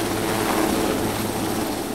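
A helicopter in flight gives a steady, dense whirring drone of rotor and engine noise that holds at an even, fairly loud level throughout, with no voices.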